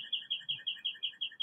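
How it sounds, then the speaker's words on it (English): Small bird chirping in a quick, regular series of bright repeated notes, about eight per second-and-a-half, clear and fairly close with no talk over it. "Y'all hear that bird?"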